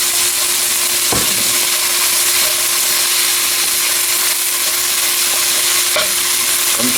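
Cabbage and bacon sizzle loudly in a hot pan, a dense continuous frying hiss with a few scraping stirs and utensil knocks, close up.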